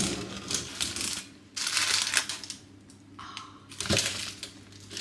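A knife cuts through a crusty, crispy homemade focaccia loaf in several crunchy, crackling bursts separated by short pauses, close and fairly loud, with no talking.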